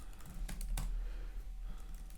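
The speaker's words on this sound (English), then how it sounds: "now I'm typing in my own chat" Typing on a computer keyboard, a short run of quiet, uneven key clicks over a low steady hum, with no voices.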